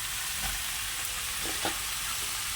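Taro stolons frying with chili paste in a pan give a loud, steady hiss and sizzle, with a couple of brief stirring scrapes partway through.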